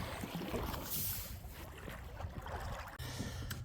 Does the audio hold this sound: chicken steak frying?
no